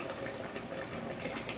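Breadfruit pieces simmer in a pot of half-reduced water, giving a soft, steady bubbling and burbling that stays quiet and close with no voices.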